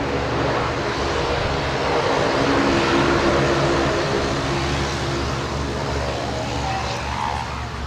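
A Saab turboprop at Sydney takes off from runway 16 right, a steady loud propeller and engine roar with a droning tonal hum that holds throughout, swelling slightly midway.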